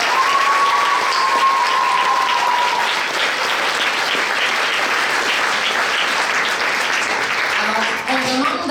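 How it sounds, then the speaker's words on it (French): Steady, full audience applause for bronze medal winners in the junior class at a regional science fair final in Quebec, dense clapping from a crowd that goes on for several seconds before easing off. "les applaudissements"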